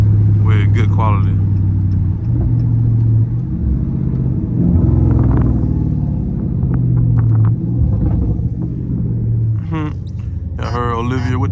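Dodge Charger Scat Pack with traction control off, its engine rumbling low and steady with exhaust burbles, and a voice talking over it throughout.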